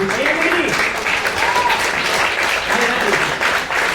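An audience applauds at a live stage show, dense steady clapping filling the whole stretch with a few voices mixed in.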